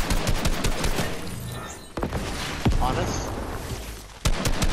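Rapid assault rifle bursts in a Fortnite match, loud and dense with repeated volleys and a few sharp single cracks, while players talk over the gunfire.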